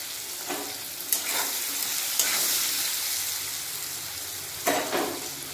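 Potato pieces seasoned with salt and turmeric fry in hot oil, giving a steady, dense sizzle with a few brief louder crackles and spatters rising above the continuous hiss, close and without any talk.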